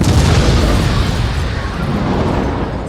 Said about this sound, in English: A crash followed by an explosion